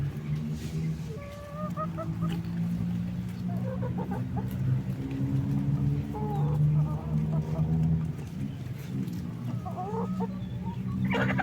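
Backyard chickens clucking and calling over a steady low background hum, with scattered short cries throughout and no voices.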